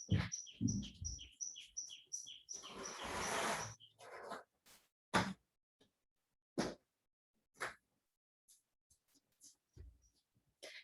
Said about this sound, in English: I work in nature and you can hear that there are birds.